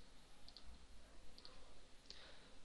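A few soft, close key clicks on a computer keyboard, one pressing the Enter key, in pairs against a steady faint hum, no talking.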